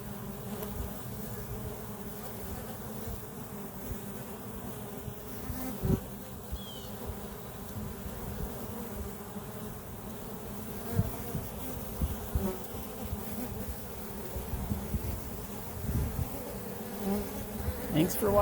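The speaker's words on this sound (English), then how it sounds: "I'll let you listen to the bees." Honey bees at the entrance of a beehive make a dense, continuous buzzing drone that stays close and steady throughout, with occasional louder passes of individual bees and no talking.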